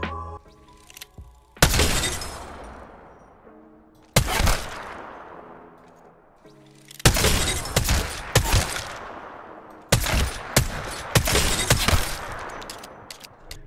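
Four powerful 30-30 Repeater lever-action rifle shots from a shooter game, each a sharp loud crack with a long echoing tail, spaced a few seconds apart, some followed by a quick burst of extra cracks and mechanical clicks.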